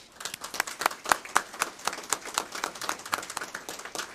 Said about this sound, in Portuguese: Dr. Jair, a quem eu peço uma grande salva de palmas.